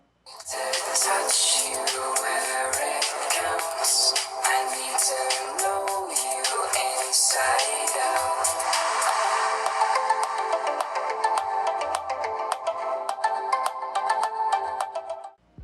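A ringtone-like musical sample plays loud and steady from a realme narzo 50A budget phone's built-in speaker, with no talking.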